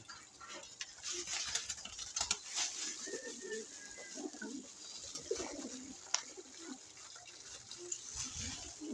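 Pigeons cooing and fluttering while being fed breakfast, soft low coos repeating among quiet shuffling and light wing movement close by, with no talk.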